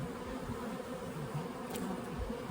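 A dense swarm of honey bees around hives holding purchased queens, a steady close droning hum that fills the whole stretch without pause.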